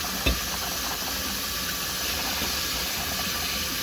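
Steady hissing rush of running water from a tap, with a brief knock near the start as an immersion blender is held under the stream.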